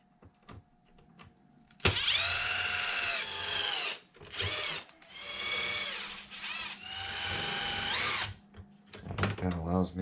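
A power driver backs screws out of a Traxxas Maxx v1 RC truck chassis in several loud whirring bursts of one to two seconds each, with brief pauses and clicks between them, heard up close.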